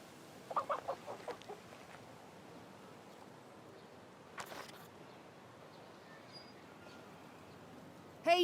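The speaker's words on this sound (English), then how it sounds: "What is that sound coming from that barrel? Cheap, cheap, cheap, I think it is." A green chick cheeps from inside a barrel in the video game King's Bounty 2: a quick run of faint, high chirps early on, a brief burst midway, then near-silence.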